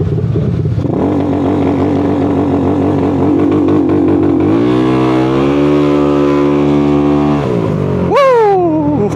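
A scooter engine revs up hard on launch control and holds a steady rising roar, then cuts off before a short sharp rev near the end, loud and close.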